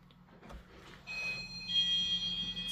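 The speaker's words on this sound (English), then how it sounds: "It's my door alarm." A home door alarm beeps steadily as the front door is unlocked, a thin electronic tone that starts partway through and continues over quiet room noise.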